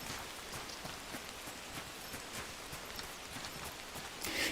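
Rain drums on surfaces around a tent site in the woods, a dense, even patter with distinct nearby drops ticking and tapping, growing slightly louder at the end.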